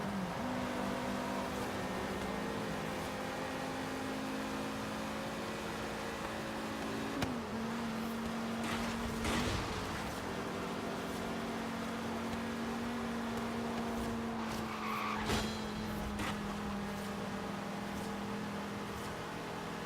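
In the video game Forza Horizon 3, an Audi RS2 Avant races with a steady, droning engine hum held at a near-constant pitch, with one brief gear dip and faint clicks, heard alone at low volume.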